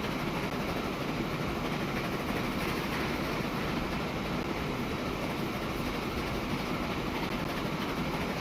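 A train in the video game Transport Fever 2 rumbles steadily along the track, a continuous broadband roll with a faint clickety-clack that never lets up.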